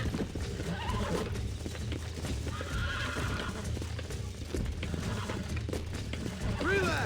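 A wild horse being tamed in Red Dead Redemption whinnies and snorts amid clip-clopping hooves, the neighs rising near the end over game dialogue and a voice speaking.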